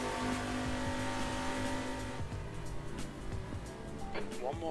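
A Ford GT race car at Le Mans in a sim racing game keeps a constant engine drone. The pitch drops as it shifts up a gear, then climbs again with faint tire squeal, and someone talks over it.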